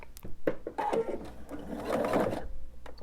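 A sewing machine stitches binding onto a quilt in short, uneven bursts of close mechanical whirring, with small clicks and fabric shuffling between runs.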